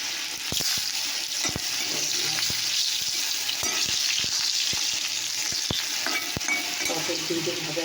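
Pointed gourd (potol) fries in oil in a pan, a steady close sizzle broken by sharp clacks and scrapes of a spatula stirring, no talking.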